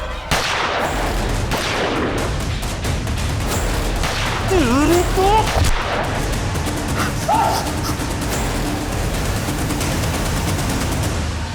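Gunfire in a crime drama scene, several sharp shots and bursts spread through a tense mix with a dog barking, loud and close amid shouting voices.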